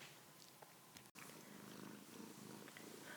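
A house cat purring while resting on a lap, a soft steady rumbling purr that runs throughout, quiet and close, with a very brief dropout partway through.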